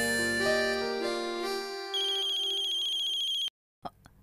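A phone rings after a call is placed, a loud melodic electronic ringtone with stepped tones that cuts off abruptly, followed by a brief pause and a faint click as the line picks up.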